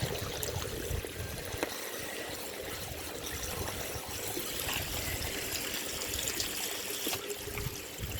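Steady trickling water runs continuously from a garden hose at a low level, a soft constant splash with no voices.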